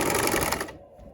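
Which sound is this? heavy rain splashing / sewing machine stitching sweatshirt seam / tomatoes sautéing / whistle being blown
sewing machine stitching sweatshirt seam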